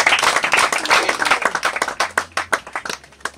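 Audience applause at an anniversary celebration, a burst of many hands clapping loudly at close range, thinning into scattered claps toward the end.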